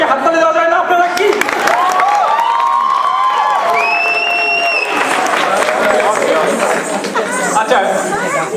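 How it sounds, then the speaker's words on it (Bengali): An audience at a BCA Easter 2013 program claps after a children's dance, with continuous applause and crowd chatter running under loud, overlapping voices and a few high whistle-like tones. "তারপর একটা জোরে কি হাততালি দেওয়া যায় না?"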